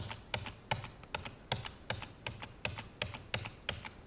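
Steady, evenly paced typing on a computer keyboard: close, moderately quiet key presses land in a regular rhythm of roughly two to three strokes per second, with no voices.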